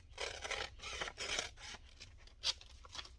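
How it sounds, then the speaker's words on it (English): Scissors snipping through paper for a craft project, several quick uneven cuts close by and fairly quiet, with no talking. "I'm going to cut these down. It doesn't even have to be straight, so I'll use my scissors."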